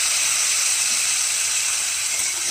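Spice paste hitting a pan of fried beans and potatoes for a light Bengali katla fish curry gives a steady, bright sizzling hiss throughout, with no talking.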